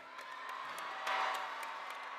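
Graduation crowd at the University of Maryland class of 2025 ceremony cheering for Kermit the Frog, a sustained roar of whoops and shouts that swells briefly in the middle.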